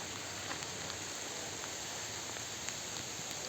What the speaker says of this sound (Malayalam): നല്ല മഴയുണ്ട് ഗൈസ്